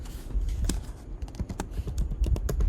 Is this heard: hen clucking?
no